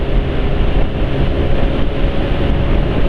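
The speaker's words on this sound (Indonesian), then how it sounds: "suara mesinnya kok kasar banget ya" A Honda Beat motorcycle engine runs with a rough, harsh tone, a steady close drone with a gritty texture throughout.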